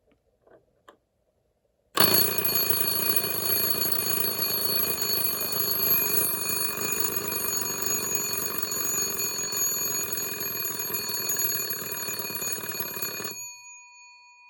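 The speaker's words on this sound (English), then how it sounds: "that thing is gonna start slapping the hell out of that bell" Antique 110-year-old Ansonia Blackbird clock movement with its hammer rapidly striking a bell: after a couple of faint clicks, a loud continuous metallic ringing rattle runs for about eleven seconds, then cuts off into a fading ring.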